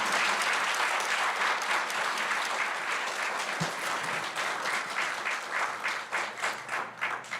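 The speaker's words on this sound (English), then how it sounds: "round of applause, please" Steady, full applause from an audience at a high school board of education meeting, a dense wash of clapping that holds for several seconds before thinning slightly into looser claps.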